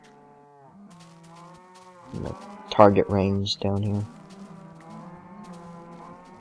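Cattle low in a game world, a few stretched moos rising over a steady background hum near the middle of the passage, loud and close, with someone talking before and after them.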